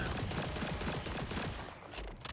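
Sustained rapid gunfire from an Order assault rifle in Borderlands 4, a steady loud burst of shots that thins out near the end into a few separate cracks.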